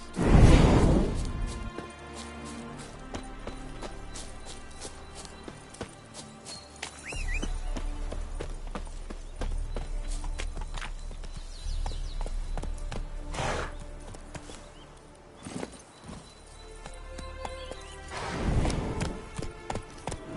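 Horse hooves clip-clop at a walking pace in The Witcher III, a steady rhythm of soft thuds heard over game ambience and a few whooshes.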